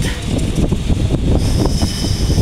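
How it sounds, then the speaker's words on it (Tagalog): Strong wind buffeting the microphone, a loud continuous rumbling roar with gusty fluctuations throughout. "Mahangin yun."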